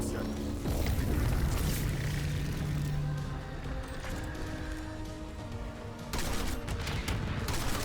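Rapid gunfire in a video game played in a level-2 curse mode on a Mars map, shots crackling densely and continuously across the whole stretch amid other busy game sounds, with a brief lull before a fresh burst near the end.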